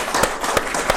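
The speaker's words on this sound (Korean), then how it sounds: "우리 모두를 위해서 큰 박수를 한번 치도록 하죠" An audience at an academic conference applauds the presenters with brief, dense clapping and a few rhythmic accented claps standing out.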